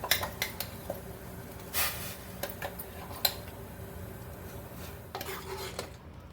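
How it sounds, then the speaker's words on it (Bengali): Puréed vegetables tipped into a pot of boiling vegetable stock for mushroom soup, then stirred: scattered clinks and scrapes of a utensil against the pot over a quiet simmering background, close and moderately soft, no speech. "এবার আমি এই ফুটন্ত যে সবজির স্টকটা রয়েছে তার মধ্যে এই পেস্ট করা সবজিটা ঢেলে দেবো পুরোটা"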